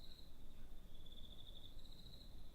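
Steady, high crickets chirp as ambient night background in a visual novel video game, a continuous thin trill over soft hiss and low rumble, with nobody speaking.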